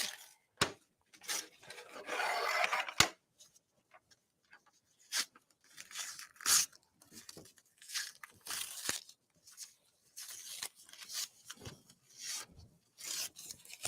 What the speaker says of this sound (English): So this will just tear off. Let's go ahead and rip this up.